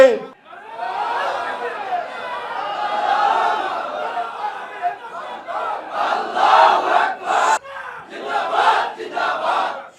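A large crowd at a Jamaat political rally in Bangladesh roars a takbir slogan, a loud sustained collective shout that rises and falls in rhythmic bursts, with voices overlapping throughout.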